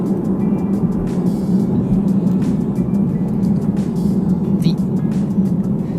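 A 2017 Chevrolet Camaro RS with a manual gearbox rounding bends, its engine a steady low drone with road and wind noise holding constant throughout.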